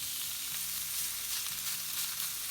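Steak seasoned with salt and pepper sizzling steadily in a hot griddle pan, a dense, even hiss of frying heard close up and alone.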